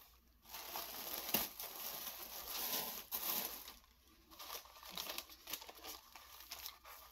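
Soft tissue paper crinkles and rustles steadily as a gift box is unwrapped, close and continuous with brief pauses, with no talking over it.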